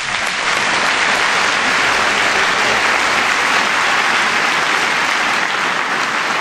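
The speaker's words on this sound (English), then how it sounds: "Let's have a round of applause for this fantastic young man." At the Pride of Britain 2010 awards, a large audience gives loud, unbroken applause for a young man. The clapping is dense and even, with no voices.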